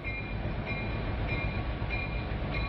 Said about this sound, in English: Oil tanker trains, 118 cars long, come and go at a shipping terminal.